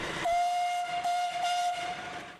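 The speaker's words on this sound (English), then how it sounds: "1925 Bowden steam truck, and it's a 3-speed truck" A 1925 Bowden steam truck, a 43-horsepower three-speed tipper kept in Christchurch, New Zealand, sounds a steady high steam whistle that holds loud and unbroken for about two seconds on its own.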